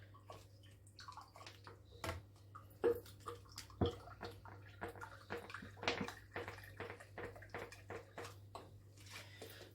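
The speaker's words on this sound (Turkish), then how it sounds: "Şöyle Kavaklı Dere'nin elma sirkesini koyarım." Apple cider vinegar being poured at home while making a purple cabbage pickle salad, a soft continuous trickling splash with small drips, quiet and close over a low background hum.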